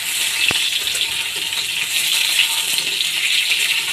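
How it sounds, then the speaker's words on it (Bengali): Potato and papaya frying in oil in a wok, a steady close sizzle with a few light clinks and stirring scrapes and no talking. "আমি কড়াইতে প্রথমেই তেল দিয়ে একটু আলু আর পেঁপেটাকে ভালো করে ভেজে নেব।"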